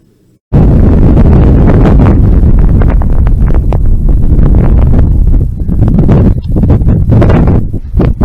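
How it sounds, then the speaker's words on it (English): Strong outdoor wind buffeting the microphone, a loud, roaring rumble that starts abruptly after a brief quiet moment and gusts unevenly throughout. "I had to move in out of the wind"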